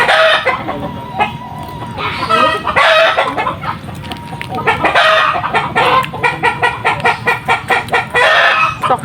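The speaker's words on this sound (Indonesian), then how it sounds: "Ayam." Close, loud clucking from several chickens runs throughout, with rooster crows standing out midway and a rapid rhythmic run of calls toward the end, heard in a village kitchen yard beside a wood-burning stove.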